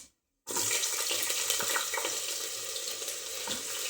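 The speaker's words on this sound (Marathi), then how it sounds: "आता बटाटा टाकूया" Potato pieces drop into hot oil with peanuts in a pan for spiced vegetable masala rice, setting off a sudden loud, steady sizzle after a brief silence that crackles on close by with no talking.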